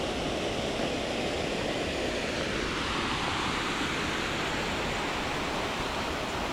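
A waterfall at a swimming spot in Italy, heard as a steady, broadband rush of falling water that holds constant and fairly loud throughout, with no voices.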